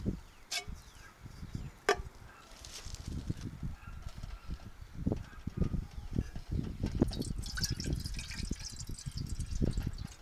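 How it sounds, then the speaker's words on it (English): Water splashes and trickles into a pot nearby in a steady irregular stream, with a couple of sharp clicks at the start. "I'm going to put some water in there first, a little bit of water."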